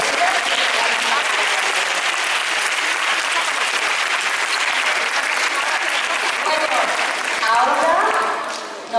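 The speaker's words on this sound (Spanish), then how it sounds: "Un fuerte aplauso." Sustained loud applause from a school audience at a Capuchinos Murcia nativity play, a dense continuous wash of many hands clapping for about nine seconds, swelling slightly near the end before tapering off.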